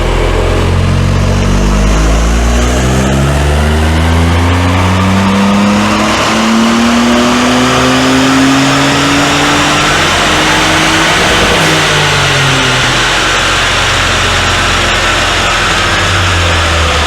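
A Ford Fiesta ST with an EcoBoost engine revs hard on a dyno. The engine pitch sweeps up and down through a sustained, very loud run, close and continuous, with no voices.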